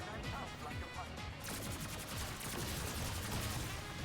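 Rapid gunfire from hip firing in a Doom- and Halo-style shooter video game, dense bursts of shots running continuously under game sound and a talking voice.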